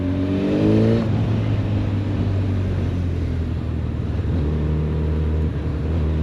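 A Honda CB 1000 Hornet SP naked motorcycle engine revs in second gear, a loud close rising whine that settles into a steady droning pull, alone without talk.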